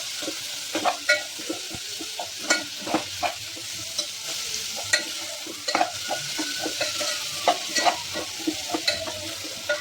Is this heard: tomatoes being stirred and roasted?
yes